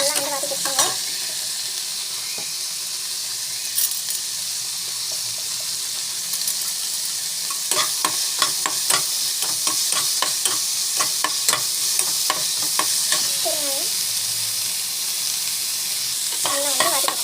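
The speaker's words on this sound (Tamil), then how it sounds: "நல்லா வந்து வதக்கி வச்சுக்கோங்க." Carrots and beans sautéing in a pan, a steady close sizzle throughout with bursts of scraping and stirring strokes in the second half, no talking.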